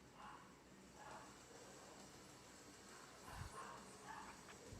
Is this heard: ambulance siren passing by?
no